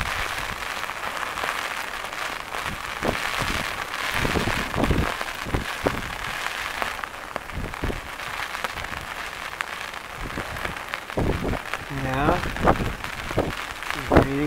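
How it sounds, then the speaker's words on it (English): Rain falls steadily at a harbor, a dense patter with sharper drips and splashes over a low background, fairly close and continuous, with a brief faint voice-like sound near the end. "it's raining pretty good right now"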